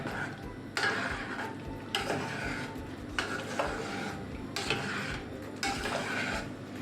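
Repeated scraping swirls of a utensil stirring in a pot, coming in short rounds of a second or so, close by and steady with no talking.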